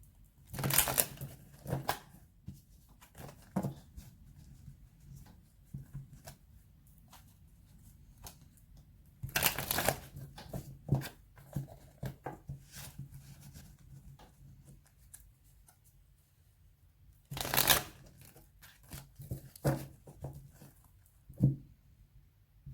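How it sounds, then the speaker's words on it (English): Tarot cards are shuffled in several bursts of crisp riffling and flicking, with quieter handling and tapping between them, close up and without talk. "Quickly shuffle these and then we'll start."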